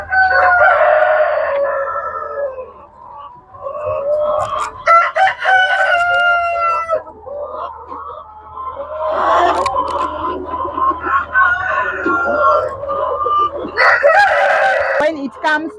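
Sasso chickens on a farm crow and cluck loudly and continuously, several birds overlapping in repeated calls, with a steady low hum underneath and no talking.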